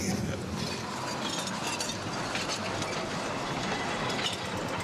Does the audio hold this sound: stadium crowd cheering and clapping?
no